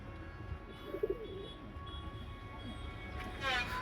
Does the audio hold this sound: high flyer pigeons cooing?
yes